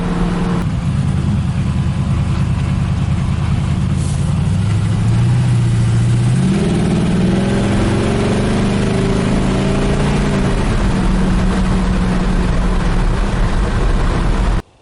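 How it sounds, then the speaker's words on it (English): A 1950 Chevy rat rod with upgraded suspension drives along, its mid-pitched engine droning steadily up close with rising and falling revs and constant road rumble, no talk. "this thing drives like a brand new vehicle right now"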